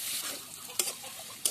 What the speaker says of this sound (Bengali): ভালো করে সব কিছু একসাথে নাড়াচাড়া করে নেব।